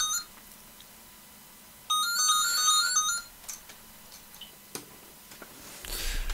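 An electronic landline telephone ring sounds once in a short burst over a quiet room, followed by faint clicks and a soft rustle.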